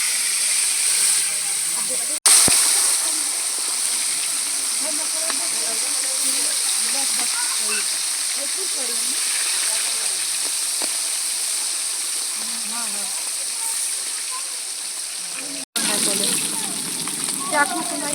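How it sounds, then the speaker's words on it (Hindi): Silver fish pieces sizzle steadily in hot oil, a continuous loud hissing fry with brief pops, constant for the whole stretch apart from two short breaks. "अब इसमें हम एक एक करके फ्राई कर लेंगे।"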